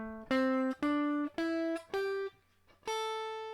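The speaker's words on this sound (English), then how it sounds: "And then if I was to play that same thing but an octave higher." Guitar playing a pentatonic scale run an octave higher, six clear plucked notes stepping through the scale one at a time with a short gap before the last, ringing and close with no talking.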